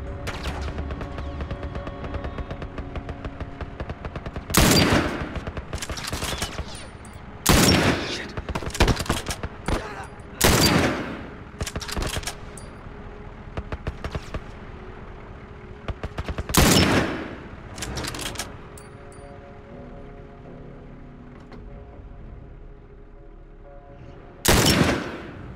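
Gunfire in The Last of Us Remastered game, loud bursts of rapid shots at irregular intervals, some clustered in quick volleys, with quieter game ambience between them.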